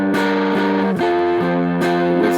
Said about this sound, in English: that's just all down strumming on those full chords, and it gets dirty in those parts